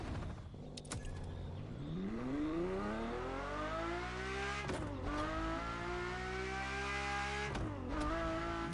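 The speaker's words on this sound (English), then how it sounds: "This was LaFerrari, the fifth and ultimate Ferrari supercar." A LaFerrari supercar in The Crew Motorfest racing game revs up through rising engine sweeps, reaching a high, smooth wail. Quick gear shifts cut the sound twice before it climbs again, heard alone and fairly quiet.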